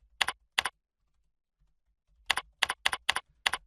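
Keys clack crisply and close up on a computer keyboard as an email is typed: two quick strokes, a pause, then a run of six evenly spaced presses.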